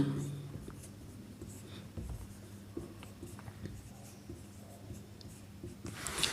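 Chalk or marker scratching across a board during a class 10 maths lesson, repeated short strokes at close range, with a teacher speaking over and between the writing.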